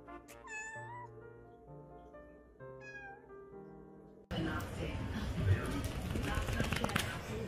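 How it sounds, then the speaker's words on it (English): A house cat meows in a series of rising, wavering calls over the first four seconds, then a louder burst of broadband rustling and scuffling noise follows as it meets a new kitten. "Day 8 of introducing my cat to my new kitten."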